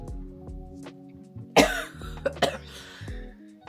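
A person coughs several times, with two sharp close coughs and some throat clearing amid quieter breathy sounds.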